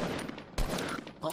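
Fortnite gunfire comes as a few loud, close, sharp shots in quick succession within a noisy game mix.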